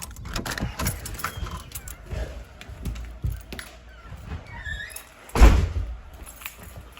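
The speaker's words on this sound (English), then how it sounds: "If I could unlock the door." A door is unlocked and opened, with keys jangling, a clicking latch mechanism and a sharp loud clunk near the end, close by and with no talk over it.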